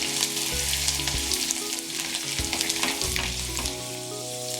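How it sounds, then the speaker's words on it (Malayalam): Ginger, garlic, mustard seeds and dried red chillies fry in hot oil for a Kerala gooseberry pickle, giving a loud, steady, close sizzle with crackling spits and occasional stirring scrapes, with no talking. "ഇഞ്ചിയും വെളുത്തുള്ളിയും എല്ലാം ചെറുതായിട്ടൊന്ന് മൂത്തിട്ടുണ്ട്"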